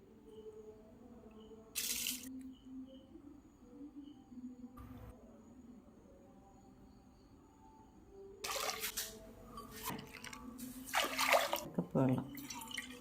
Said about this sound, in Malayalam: നമുക്ക് ഈ വെള്ളം ഇതിലേക്ക് ഒഴിക്കാം